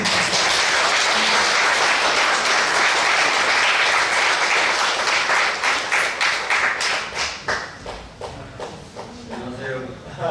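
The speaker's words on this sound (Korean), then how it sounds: "나올 때 박수로 환영하겠습니다" A church congregation applauds to welcome a young man about to enter military service, dense and loud at first, then thinning into scattered individual claps and shuffling as it fades.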